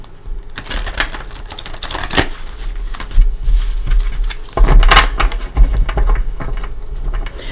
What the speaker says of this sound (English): I like to give it a couple shuffles with you here.